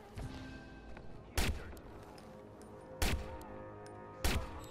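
Gunshots in the Watch Dogs video game, three sharp, well-spaced shots over a low background of game ambience.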